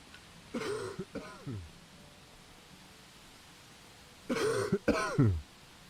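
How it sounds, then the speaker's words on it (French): Video game characters in Pumping Simulator 2 cough in two short bursts of a few harsh coughs each, separated by a quiet stretch over a faint background hiss. "Ils sont comme moi, ils toussent tous"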